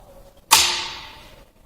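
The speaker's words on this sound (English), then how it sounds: "the solenoid should actuate the pinion so that the pinion will be thrown out" Starter motor solenoid on a bench test snapping the pinion out, a single sharp clunk with a ringing tail that fades over about a second, in otherwise quiet surroundings.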